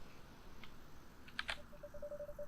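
A telephone in a video game gives two sharp clicks followed by a steady, faint ringing or dial tone that pulses on at moderate level, with no talking.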